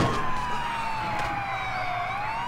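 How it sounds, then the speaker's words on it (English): A police car siren wails in the video game GTA with the LCPDFR mod, a steady rising and falling tone, fairly loud and continuous with no talk over it. "Freaking had my lights and sirens on."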